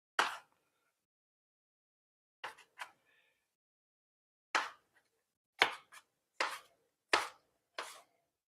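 A kitchen knife chops ingredients on a cutting board in sparse, uneven strikes: a single cut, a quick pair, then a faster run of six sharp, close knocks spaced about a second apart, with quiet gaps in between.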